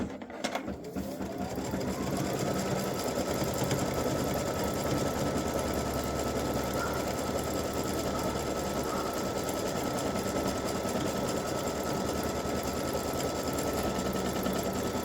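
A sewing machine stitches straight onto a T-shirt, running at a continuous fast pace for the whole stretch, close and steady after a brief start, with no talking.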